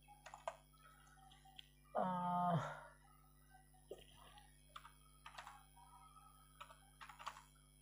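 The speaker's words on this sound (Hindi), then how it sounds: "चलिए मैं एक ईमेल टाइप करता हूँ।" Typing an email on a computer keyboard produces scattered clicks and short tapping bursts at a moderate distance, along with one louder, longer sound partway through.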